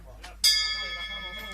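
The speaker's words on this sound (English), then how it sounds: "Now we've been hearing this bell ring quite a bit" A steel bell on a green long-range shooting target rings once with a sharp strike, then a sustained metallic tone decays slowly, heard from a distance over faint background murmur.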